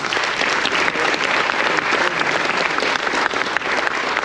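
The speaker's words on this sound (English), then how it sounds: "So give yourselves a huge round of applause" A cruise ship audience applauds military veterans in a dense, steady wash of many hands clapping together, loud and close, continuing without a break.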